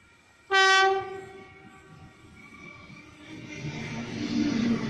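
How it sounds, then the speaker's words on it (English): Sydney Oscar electric train arriving at a station, opening with one loud, sharp horn blast, followed by a rising rumble of wheels and motors as it draws closer. "Or by the sounds of things, an Oscar arriving."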